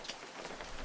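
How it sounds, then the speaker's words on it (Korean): Heavy rain at night in a Korean folk tale, a dense, steady hiss of drops pattering on surfaces. It is fairly faint and even, with no voices. "정말 비가 점점 더 많이 내리고 있었어"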